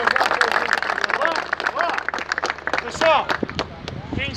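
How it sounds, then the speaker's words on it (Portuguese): Applause from a crowd of protesters at a truckers' strike, clapping mixed with loud chatter and voices throughout, a voice cutting in over the noise. "uma salva de palmas para vocês aí"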